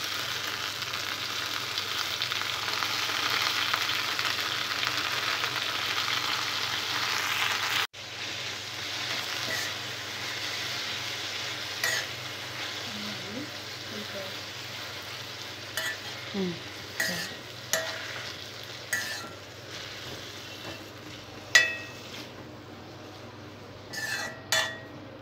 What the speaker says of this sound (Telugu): పచ్చిమిరపకాయలు ఫ్రై అయిన తర్వాత పుదీనా వేసుకోవాలి.